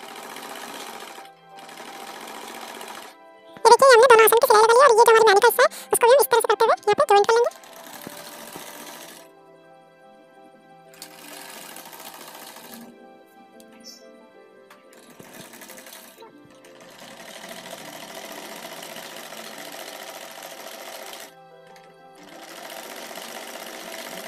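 A sewing machine stitching a ladies' suit, joining the seat seam. It runs in one loud burst of rapid, steady stitching lasting a few seconds, then stops, leaving quieter handling noise and faint background sound.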